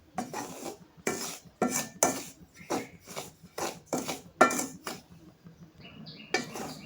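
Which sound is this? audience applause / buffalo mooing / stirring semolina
stirring semolina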